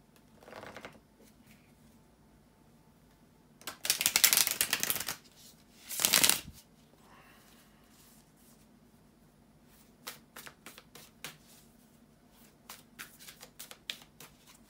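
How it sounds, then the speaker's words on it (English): Tarot cards being shuffled in two quick riffling bursts, followed by a series of light taps and flicks as the deck is handled. "bear with me a second, guys, to shuffle the tarot cards"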